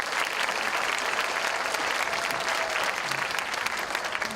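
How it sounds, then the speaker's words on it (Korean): An audience at a university brain-week lecture applauds for the four doctors. Dense, steady clapping from a hall full of people continues evenly throughout, loud and close, with no talking over it. "우리 네 분의 박사님께 다시 한번 큰 박수 한번 부탁드릴게요"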